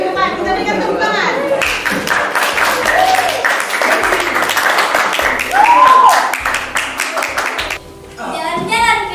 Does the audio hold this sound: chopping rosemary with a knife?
no